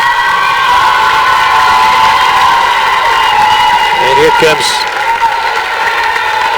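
Basketball crowd at a Pirates game roaring and cheering steadily for a player coming in off the bench, a dense loud wall of voices with a commentator talking over it.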